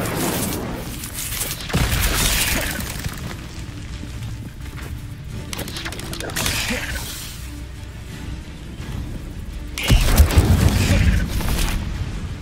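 Fiery spell blasts from a spellcasting duel in Hogwarts Legacy, played on hard difficulty: loud whooshing bursts with booming impacts near 2, 6 and 10 seconds over a continuous rumbling background.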